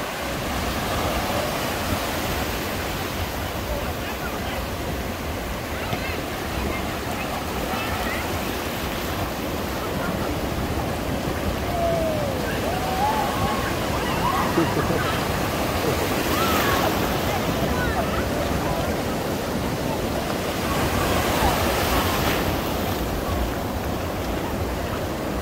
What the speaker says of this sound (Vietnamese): Càng ngày sóng càng to hơn nhá.